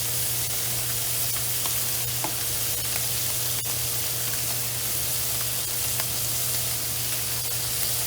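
Bacon-wrapped scallops sizzle loudly in a frying pan, a dense continuous hiss with faint pops and occasional light clinks, heard up close with no talking.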